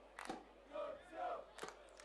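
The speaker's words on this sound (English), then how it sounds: "a good crowd in attendance at Knights Stadium" Football crowd of about a thousand at Knights Stadium during a Victorian Premier League match, distant crowd noise swelling and fading in two waves between sharper bursts, faint overall.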